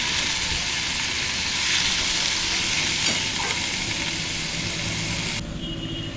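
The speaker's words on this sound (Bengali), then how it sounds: "আরও কিছু সময় আমি শাকটা ভেজে নেব" Amaranth greens frying in a pan, a loud, continuous sizzle and hiss with faint stirring scrapes, close up; the sizzle drops slightly near the end, no talking.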